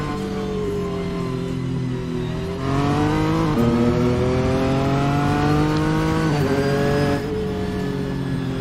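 A BMW M8 race car in a racing game, descending the mountain at Bathurst: a loud, close engine note climbs steadily, drops sharply at two gear changes, then climbs again before easing off near the end.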